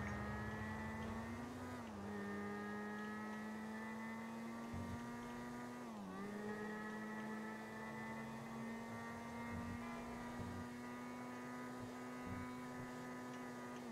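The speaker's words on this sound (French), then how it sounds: "je commence à être bien plus à l'aise à moto" Motorcycle engine in a GTA roleplay game, a steady droning whine holding pitch with brief dips as the rider shifts or slows, loud and continuous for the whole stretch.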